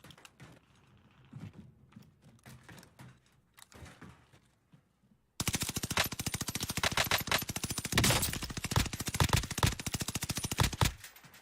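Gunfire in Call of Duty: Warzone, at first scattered, faint shots and clicks, then a sudden loud, sustained automatic burst of rapid close-range fire that runs on for several seconds, no voices.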